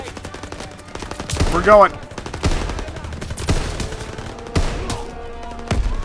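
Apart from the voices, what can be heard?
gunfire in video game Call of Duty WWII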